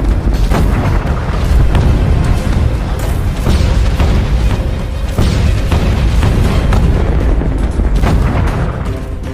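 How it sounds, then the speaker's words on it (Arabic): Ottoman cannons bombarding a city as a sound effect, a loud, dense rumble of booming blasts and explosions rolling on continuously without pause. "وبدأ بقصف المدينة"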